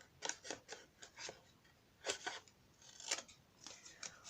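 Scissors snipping through paper while making a small Easter basket place card, a series of quiet, close, crisp cuts in short irregular bursts.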